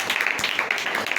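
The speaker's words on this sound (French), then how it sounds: "Acclamons pour Jésus." A church congregation applauds for Jesus, a steady wash of many hands clapping at moderate volume, continuous and unbroken through the moment.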